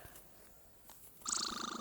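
Cat purring in a pet trading video game, a steady close rumbling purr that swells in suddenly after a quiet stretch and pulses rhythmically to the end.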